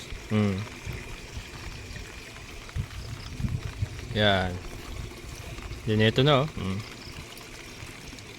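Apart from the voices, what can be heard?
water pouring from fully open tap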